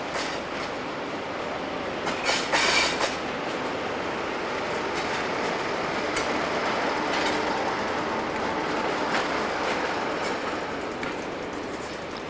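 British Rail diesel locomotive 47788 hauls rail tour coaching stock past at a station, a continuous loud rumble of engine and rolling wheels with faint clanks and squeals throughout, no voices.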